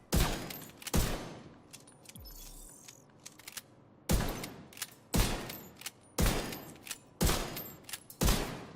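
Rifle fire in Tom Clancy's The Division, loud close bursts of gunshots coming in a regular series of separate volleys with short pauses between them, alone without talk.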